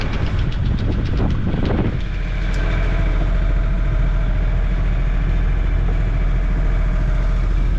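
A sailing boat's inboard engine runs steadily at 1500 revs, a continuous low droning hum heard up close throughout, with a brief louder rumble at the very start.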